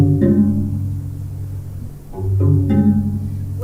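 A cello prepared with clothespins on its strings gives low, resonant, gong-like tones with ringing overtones, two struck notes sustaining and slowly decaying close up.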